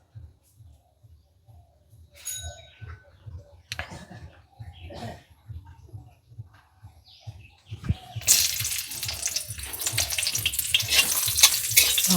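Green chillies drop into hot oil after a quiet stretch with a low hum and faint sounds, then a sudden loud, crackling sizzle that keeps going close by.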